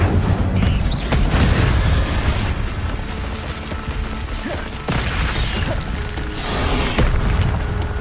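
Combat in the Hogwarts Legacy video game with the Incendio fire spell, dense booming blasts and crashes layered over continuous loud game noise, with several sharp impacts throughout.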